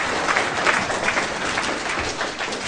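A seminar audience gives a round of applause, many hands clapping in a steady, dense patter at moderate loudness, continuous for a few seconds.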